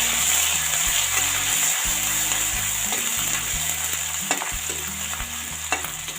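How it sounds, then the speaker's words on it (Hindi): Ginger-garlic paste sizzling and frying in a pan while a spoon stirs and scrapes it in a steady rhythm, close and moderately loud, with no talk. "अब हम इसमें ऐड करेंगे अदरक और लहसुन का पेस्ट"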